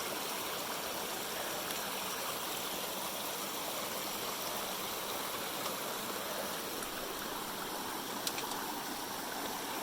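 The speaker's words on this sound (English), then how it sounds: "this is our first water crossing" Steady rushing stream at a water crossing on a solo hiking trail, a continuous broadband wash of flowing water close by, with no talking.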